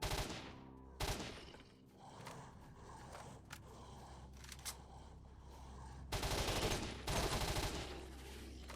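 Gunfire in the STALKER FM shooter, with sharp shots and rapid bursts, some close and loud, separated by quieter stretches of ambient noise and mechanical clatter.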